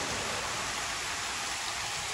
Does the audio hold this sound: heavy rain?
yes